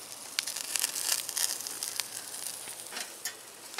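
Steak sizzles on a Lifedoo portable grill, a steady crackling hiss of fat spitting with scattered sharp pops, close and moderately loud with no talking.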